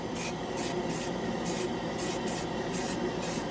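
Titans Hobby primer sprayed from an aerosol can onto a scale model, heard as a series of short, close hissing bursts in an even rhythm, about eight sprays with brief pauses between them.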